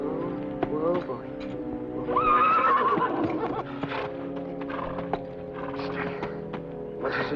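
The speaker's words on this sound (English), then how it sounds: "You might fetch my horse." A horse lets out a loud, shaky whinny amid hooves clopping on the ground, with other rustling movement around it nearby.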